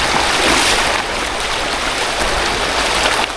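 A strong river current rushes over rocks in a rocky riverbed, a loud, continuous close roar of turbulent water with no pauses.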